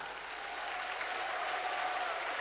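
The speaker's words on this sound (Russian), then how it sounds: "Аплодисменты, пожалуйста!" Steady, dense applause from a circus festival audience, many hands clapping continuously at an even level throughout, with no individual voices standing out.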